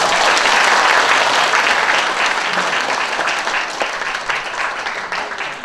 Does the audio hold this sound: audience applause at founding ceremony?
yes